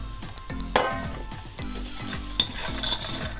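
Walnuts stirred and fried in desi ghee, a close soft sizzle under repeated scraping strokes of a spoon in the pan, with a couple of sharper clinks against the metal.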